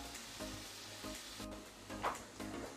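Onion sweating in a frying pan with a pinch of salt, giving a steady soft sizzle throughout, with a few light stirring knocks and one brief clink near the end.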